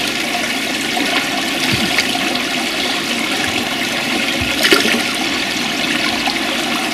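Water from a Nexus 210 filter system pours steadily into a pint glass, a continuous loud rushing flow that holds even throughout, with no voices.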